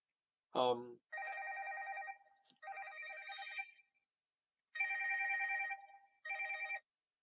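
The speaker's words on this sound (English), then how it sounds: "I have been getting inundated with spam phone calls today" A telephone rings with an incoming spam call, an electronic ringtone in several long bursts with gaps between them, heard clearly in a quiet room after a brief voice at the start.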